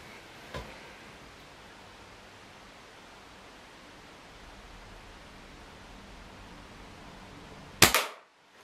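A Diana model 15 smoothbore air rifle from 1930–1945 fires a single sharp crack at a target, close and loud, after a long stretch of steady low hiss and a faint click.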